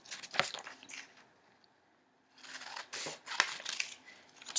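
Scissors snipping triangle shapes out of paper, a couple of crisp close cuts, a brief pause, then a run of quicker rustling snips.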